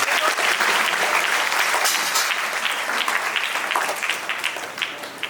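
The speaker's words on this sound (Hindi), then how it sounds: "कृपया ताली मारें और उसका हम स्वागत करें" A church congregation claps in welcome for a bishop at a Catholic priestly ordination at St. Thomas Church, Mayabunder: dense, steady applause throughout, thinning slightly toward the end.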